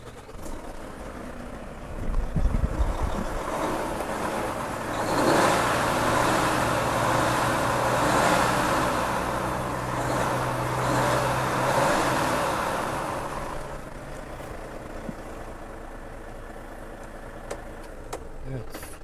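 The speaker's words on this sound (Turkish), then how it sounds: "Motor sesiyle taçlandıralım bu videomuzu da." A 2021 Volvo FH truck engine of 540 horsepower idles with a deep, steady rumble, revving briefly louder early on before settling back to a low drone.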